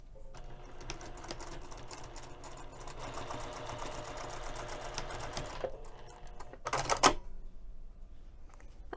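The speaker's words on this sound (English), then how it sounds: "we're going to sew this short end using a quarter of an inch seam allowance." A sewing machine stitches a quarter-inch seam across the short end of a fabric bag strap. It gives a steady, quiet, fast whirring patter for several seconds, then a brief louder burst just before it stops.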